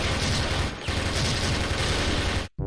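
Sustained rapid automatic gunfire from an AUG rifle in a shooting video game, a loud, dense burst lasting over two seconds with a brief pause, then cutting off abruptly.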